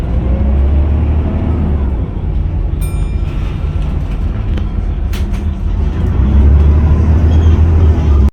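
Interior of a Mercedes O500LE bus with Volgren body, ex-Brisbane, run by Transit Systems in New South Wales, rumbling steadily with loud low engine drone, a brief rattle or bell-like ping midway, then a rising engine surge near the end.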